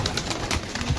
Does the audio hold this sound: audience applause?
no